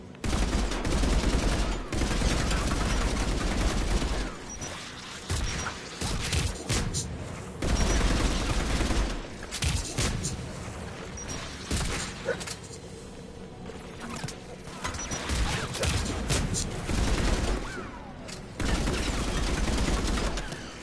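Anti-aircraft guns in Mass Effect Legendary Edition pound out sustained rapid bursts of heavy fire, dense and loud throughout, with only brief dips between volleys and voices faintly under the barrage.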